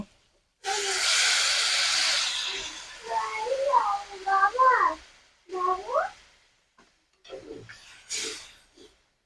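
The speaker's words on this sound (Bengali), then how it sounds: "পরিমাণ মতো জল দিয়ে দিলাম কাঁকড়াগুলোকে একটু সেদ্ধ হতে দেবো" Water poured into a hot pan of cooking sea crabs sets off a loud burst of hissing steam and sizzle lasting about two seconds, followed by a few short, warbling voice-like sounds and quieter hisses.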